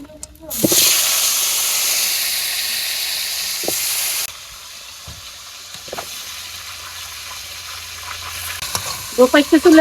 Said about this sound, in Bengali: প্রথমে আলুগুলো ভাজছে নেই